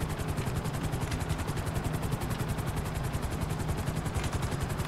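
A helicopter in GTA 5 drones steadily with fast, even rotor chop, a continuous mid-loud thumping whir with no voices.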